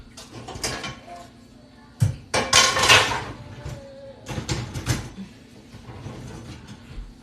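Clanks and scrapes of a heavy cast iron frying pan being handled, in several clattering bursts with pauses between, close by and fairly loud.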